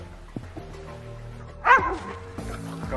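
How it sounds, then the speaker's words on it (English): A dog named Molly barks and whines indoors, a few sharp yips and one louder bark close by, over a steady background hum with faint voices. "before the dog went crazy"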